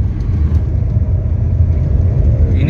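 Car fitted with an Apex aftermarket air filter pulling hard through the gears, a steady loud low engine rumble with continuous road noise and no talking.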